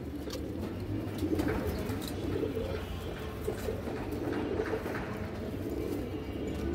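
A pair of ring-eyed flying pigeons in a loft, giving soft, low, rolling coos that repeat over a steady background hum of ambient noise.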